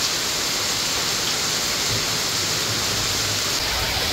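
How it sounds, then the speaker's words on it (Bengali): Heavy rain pouring down hard outdoors, a dense, steady hiss of downpour that stays loud and even throughout, with no voices. "একদম যাকে বলা হয় একদম ঝমঝম করে বৃষ্টি হচ্ছে"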